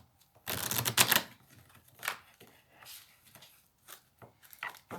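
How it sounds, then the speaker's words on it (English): Oracle cards are shuffled by hand in quick, papery riffling bursts, close and fairly quiet, with several separate rounds of shuffling broken up by short pauses and no talking. "My shuffling skills really suck today."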